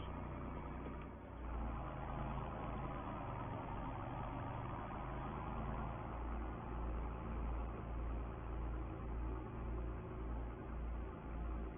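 A vintage tractor from 1963 runs steadily at close range during a sugar beet haul to the factory, its engine putting out a continuous low, throbbing drone with a pulsing low-end rumble and no speech.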